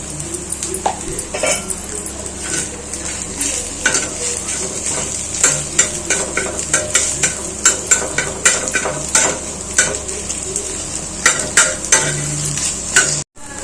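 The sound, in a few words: stir-frying egg fried rice with chilli powder on tawa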